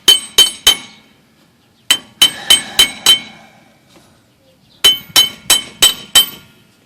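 A hammer strikes the axle shaft and hub parts of a Dodge Ram during axle shaft, U-joint and hub replacement: sharp, ringing metallic blows, loud and close, landing in three quick bursts of three, five and five hits with short pauses between.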